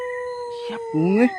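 A long rising and falling animal howl, followed by a second howl-like wail, close and loud, with a steady tone droning underneath.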